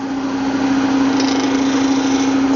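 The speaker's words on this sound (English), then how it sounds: "So I've reduced the speed on the lathe." Steady motor whine and hum of a wood lathe spinning a garden dibble blank at reduced speed, constant and close, with no talk.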